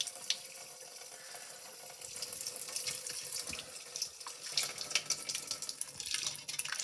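Tap water runs and drains in a kitchen sink, a steady, fairly quiet hiss and splash with small irregular spatters, and no voices.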